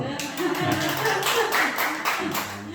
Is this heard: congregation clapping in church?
yes